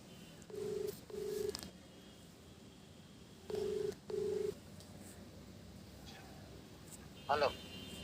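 A phone call being placed as a prank rings back with two pairs of steady, mid-pitched double-ring tones, clear and close against low background hiss, followed by a brief sharper beep near the end.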